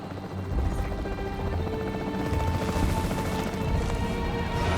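Capture team helicopter in the video game Jurassic World Evolution 3, a steady thrumming rotor drone with clattering impacts mixed in, dense and continuous for several seconds, no talking.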